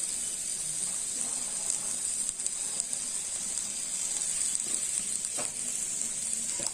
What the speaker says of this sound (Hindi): अब हम इसमें कटा हुआ टमाटर डाल देंगे, लाल मिर्च डाल देंगे